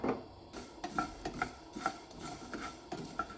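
A spatula stirs and scrapes masala spices dry-roasting in a hot pan for pepper chicken, with close, rhythmic metallic scrapes and a soft sizzle, no voices.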